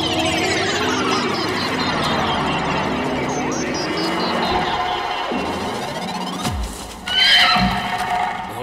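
A horse neighs loudly in long whinnies, with hooves clip-clopping and some background commotion, and a brief louder burst near the end.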